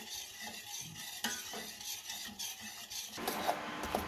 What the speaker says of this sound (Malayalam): ഇളക്കുന്നത് നിർത്താതിരിക്കുക കേട്ടോ